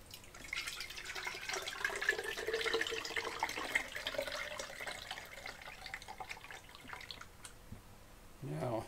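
Rice wash lactic acid bacteria liquid with curds is poured into a container, a steady splashing trickle that runs for several seconds before tapering off, ending with a brief knock.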